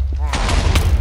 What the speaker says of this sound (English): Big boom!